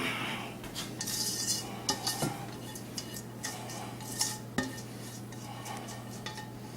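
A spatula scrapes sautéed shredded carrots out of a bowl into hot tofu for tofu burgers, giving a series of close, light clinks and scrapes against the bowl with no talking.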